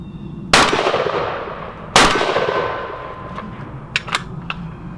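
A Stoeger 20-gauge Uplander side-by-side shotgun fires Winchester #3 buckshot from both barrels, left then right, two loud outdoor blasts about 1.5 seconds apart, each with a long rolling echo, followed by a few faint clinks.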